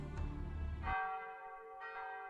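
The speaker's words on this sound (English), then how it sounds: "The bell." A church bell in an episode of the Fate Grand Order anime rings out with a resonant toll that decays slowly, then strikes again more softly, rising above a low rumble that cuts off early.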